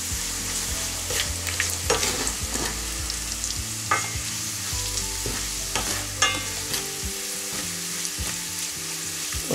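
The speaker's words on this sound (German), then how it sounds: "Wird alles nochmal durchgerührt. Die Zwiebeln werden jetzt arg dunkel." Onions frying in a pan while being stirred, darkening toward burnt in a turmeric stew: a steady close sizzle with repeated scraping stir strokes throughout, no talking.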